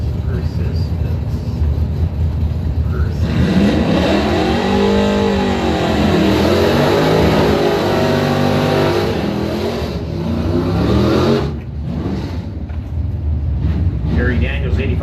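An 85 Trans Am and a 90 Mustang run a bracket drag race at the strip, loud engines revving and roaring past with a rising and falling sweep, wind buffeting the microphone, while a voice talks over the noise.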